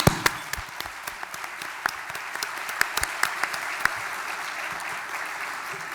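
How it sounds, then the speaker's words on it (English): Audience applause at a leadership luncheon: a moderate, fairly sparse round of clapping with individual sharp claps standing out over a softer crowd wash, holding steady throughout. "Let's give them all a round of applause."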